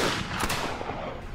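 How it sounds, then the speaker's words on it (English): Guns fired as a welcome salute at the end of a parley between colonial-era parties, a loud burst of several sharp reports close together, ringing out over a noisy outdoor background. "Why are they firing?"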